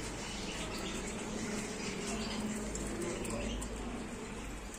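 Many lovebirds and other caged birds chirping and twittering together at a busy pet market in Riyadh, Saudi Arabia, a dense continuous chatter with a watery background hiss and faint voices mixed in.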